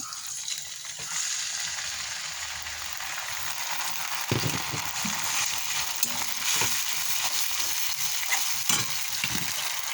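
Spice paste sizzles and fries loudly after being added to onions fried light brown in a home pan, with a dense, crackling hiss held throughout and occasional stirring scrapes and taps.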